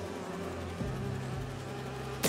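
Holographic bee wolves in the Spider-Man 2 video game give off a continuous insect-like buzz, steady and moderately loud throughout the short stretch with no talking.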